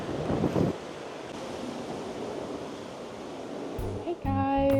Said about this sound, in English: Let's go inside where it's not so freaking windy.